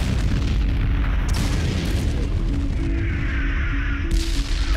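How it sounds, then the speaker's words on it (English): Massive artillery bombardment in Normandy before a tank battle, heavy booms and rumbling blasts rolling continuously, with a few sharper bursts standing out from the dense barrage. "After a massive bombardment, Operation Totalize begins."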